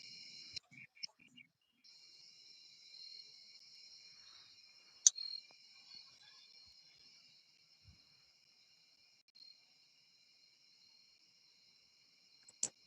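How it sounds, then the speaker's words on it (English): A cricket chirps in a steady, high-pitched trill that runs continuously in the background, with a few sharp clicks and soft, brief vocal sounds breaking in. "Oh, now I just hear one cricket all of a sudden."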